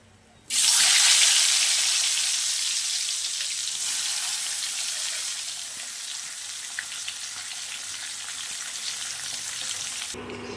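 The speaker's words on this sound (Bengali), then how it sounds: "বাকি মাছগুলো একই তেলে ভেজে নেবো" Pabda fish dropped into hot oil burst into a loud, sudden sizzle that settles into a steady, close frying hiss for several seconds, with no voices.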